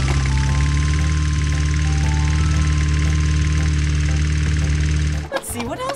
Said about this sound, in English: Wow, this is a green lawnmower. I think we should mow the lawn.